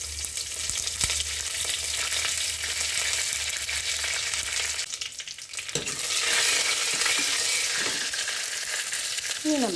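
Curry leaves and dried red chillies frying in hot oil for a yogurt curry served at a Guruvayur temple festival, a loud steady sizzle that swells further midway, with faint stirring and no talking.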